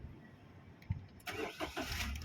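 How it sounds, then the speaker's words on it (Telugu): A Maruti Wagon R VXI petrol car starts up nearby: a soft click, a brief crank, then the engine catches and settles into a steady idle. "వెహికల్ స్టార్టింగ్ కండిషన్ చూడొచ్చు మీరు"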